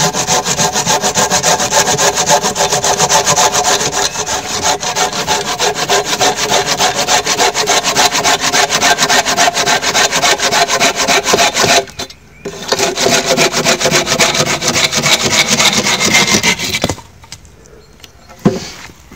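An old, bent hand saw cuts through wood outdoors at a bushcraft shelter, making loud, close, rhythmic back-and-forth rasping strokes that pause briefly twice before resuming.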